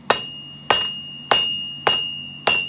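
Five evenly spaced hammer blows strike metal on the edge of an anvil while a lid lifter is forged, each one a sharp bright ring that decays slowly, close up with no talking.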